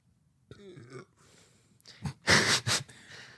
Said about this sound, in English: That was a belch right into the microphone